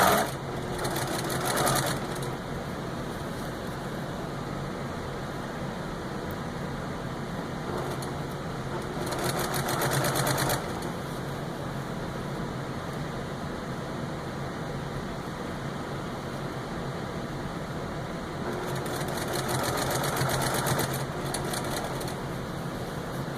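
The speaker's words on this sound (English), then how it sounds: "This won't be so fiddly if you've got a different machine." A sewing machine stitching stocking binding runs in three loud whirring bursts of a few seconds each, separated by quieter stretches of steady background hum, with no talking.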